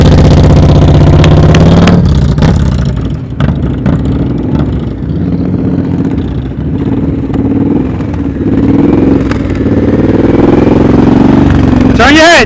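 Motorcycle engine held at low revs and blipped during slow-speed riding practice, a steady low rumble with small throttle surges throughout, while an instructor speaks over it.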